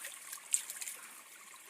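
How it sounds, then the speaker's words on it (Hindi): A small village stream trickling and splashing softly as someone washes face and hands, faint and close, with light irregular drips and splashes and no voices. "थोड़ा मुँह हाथ धुल लेते हैं अब"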